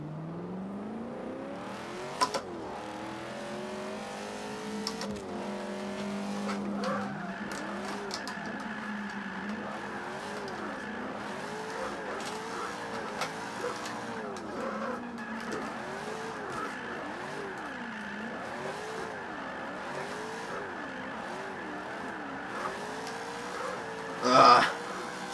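Car drifting in the Forza 5 racing game, engine revving and wavering up and down as tires squeal through long slides, with occasional louder bumps and a person talking over it.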